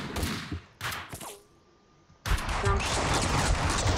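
Gunfire in Max Payne 2: a few sharp shots early on, a short lull, then a sustained loud volley of rapid gunfire, with someone speaking briefly between the bursts.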